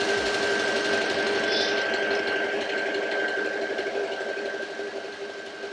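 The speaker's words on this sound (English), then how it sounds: "I'm going to go back around the whole thing with a zigzag right next to where I did the straight stitch" Domestic sewing machine running a continuous zigzag stitch around the edge of an embroidered tablecloth, a steady close whirring hum with a faint tonal whine throughout, easing slightly toward the end.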